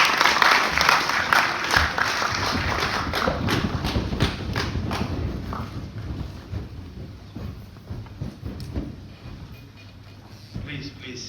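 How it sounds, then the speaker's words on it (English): Audience applause welcoming the Speaker of Ghana's 8th Parliament at a media event, a loud sustained clapping from a crowd that gradually thins and fades over several seconds, with some voices beneath. "Please, with a round of applause, help me to welcome the Speaker of the 8th Parliament of the 4th Republic"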